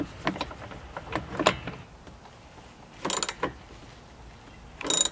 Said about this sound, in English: Go ahead and finish tightening it with your wrench.